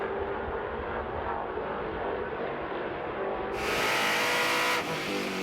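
A Trans Am race car passes during a Western Championship race at Laguna Seca, a distant muffled engine drone swelling into a louder, brighter roar near the end before cutting back.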